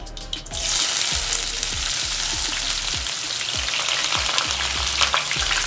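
Onions, curry leaves and green chilies crackle and sizzle in hot oil while tempering a curry, a dense continuous frying hiss with scattered pops, close and fairly loud, without speech.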